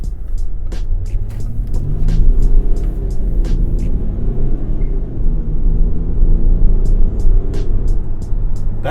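A 2016 Range Rover HSE Td6 with its 3-liter V6 turbo diesel running, a steady low idle rumble heard up close, with faint light ticking over the top and no talking.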